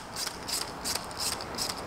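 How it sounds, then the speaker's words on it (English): A 10 millimeter ratchet tightens a screw while a smoked flyscreen is fitted to a Vespa GTS, giving rapid metallic clicking in four close, steady bursts with no talk. "this is where you'll need your 10 millimeter ratchet"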